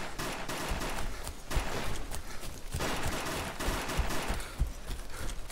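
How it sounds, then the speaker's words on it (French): Repeated gunfire bursts crackle through a DayZ Mod firefight around a castle, volleys and single shots landing in quick irregular succession over steady noisy game ambience, fairly loud and without talk. "Ça tire."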